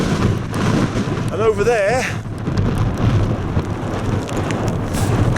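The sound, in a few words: wind and rain on a fell summit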